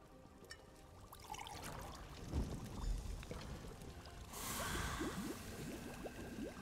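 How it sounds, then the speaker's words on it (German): Holy oil is poured into a cauldron in The Elder Scrolls Online, heard as a soft liquid pour with splashy, swishing trickles that swell toward the end against quiet background ambience. "Ihr habt das Weihöl? Gießt es in den Kessel."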